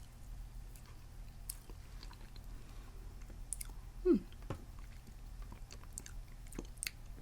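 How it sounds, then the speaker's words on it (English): A bite of peach-flavoured gelatin moulded into a brain shape is chewed close to the microphone. Soft, wet, quiet chewing sounds come over a low background hum, with one louder squelch near the middle and faint clicks. "Here's my little bite of brain that I'm gonna take."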